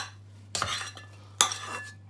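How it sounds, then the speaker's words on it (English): Two short scraping, clinking stirs of naan dough in a bowl, each a brief close burst against a faint steady hum, with no talk. "stir. The dough balls just start coming away from the sides of the bowl"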